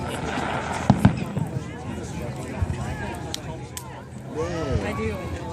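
Fireworks exploding at the Kaboom Town 2014 show, a few sharp bangs and crackles early on, then rumbling pops, all heard beneath continuous crowd chatter and nearby voices.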